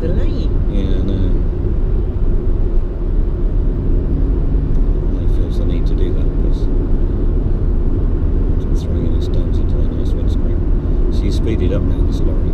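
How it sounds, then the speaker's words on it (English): A lorry drives on a French autoroute, the A31 between Nancy and Toul, giving a loud continuous road rumble and engine drone heard from inside a vehicle, with faint higher whines now and then. "Speeded up now, this lorry, because he's gone up a hill."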